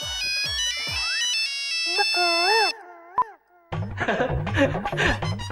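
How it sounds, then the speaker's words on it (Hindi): A loud electronic phone ringtone plays a bright melodic tune, then cuts off as people begin talking over each other. "आ गया शर्मा जी का फोन।"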